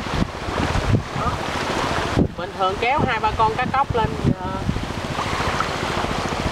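Strong sea wind roars and buffets the microphone nonstop during a fishing trip on rough water off Vietnam's Mekong Delta coast. A loud, steady broadband rush continues throughout, with someone talking over it in the middle.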